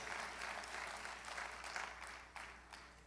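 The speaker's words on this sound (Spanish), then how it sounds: "¿Cuánto le da un aplauso al Señor?" A church congregation applauds the Lord during a sermon, a faint, distant wash of steady clapping that tapers slightly toward the end.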